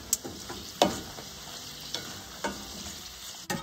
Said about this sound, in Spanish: Voy a dorar los chiles, cuidando de que no se quemen